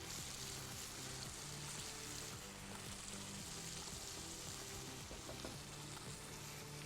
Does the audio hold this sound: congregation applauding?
no